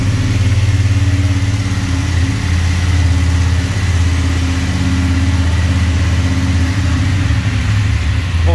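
A BMW F850GS 40th-anniversary edition motorcycle, already partly warmed up, rumbles at a steady, loud idle up close, its even engine throb constant throughout.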